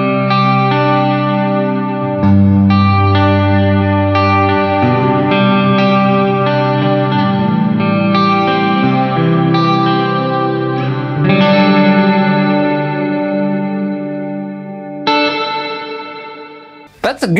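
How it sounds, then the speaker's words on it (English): An electric guitar played through a budget G-Lab Rebel Series reverb pedal, sustained chords and notes blooming into a lush, long-decaying reverb with some modulation shimmer, loud and continuous with no voice over it. "That's a good sound, like a really good reverb sound."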